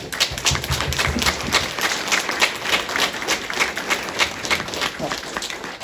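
An audience at a community conversation event gives a round of applause, dense clapping close by that continues steadily for several seconds.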